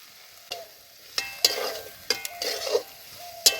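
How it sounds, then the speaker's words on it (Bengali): Potato and cauliflower curry frying in a pan, a quiet sizzle broken by several sharp spatula clanks and scrapes as the pieces are broken up and stirred. "আলু আর কপিগুলো এখন খুন্তির সাহায্যে ভেঙে দেবো"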